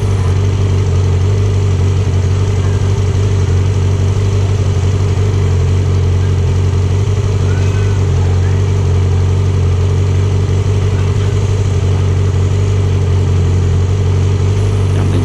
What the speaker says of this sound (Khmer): ដើម្បីឲ្យម៉ាស៊ីនវា ដំណើរការវាបាញ់ប្រេងសពក្នុងម៉ាស៊ីន